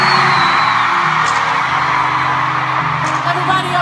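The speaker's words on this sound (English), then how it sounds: "clap, make some noise." A loud concert crowd at a world tour concert in Dublin roars with whoops and high screams, sustained and dense throughout, with music faintly underneath.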